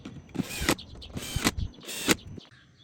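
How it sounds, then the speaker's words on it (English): A clutch-equipped bit driver runs down the air filter housing screws on a BMW 535i F10 with the N55 engine, in three short close whirring bursts separated by brief pauses, no talking. "And now you're going to hold down, put a little bit of pressure, and screw these on down."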